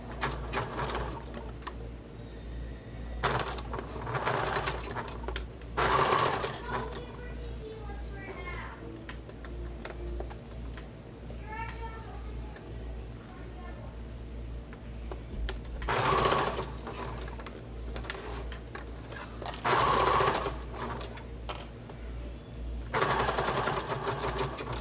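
Sewing machine basting a convertible bag, running in several short bursts of rapid stitching with quiet gaps between them, while a person speaks at times over the work.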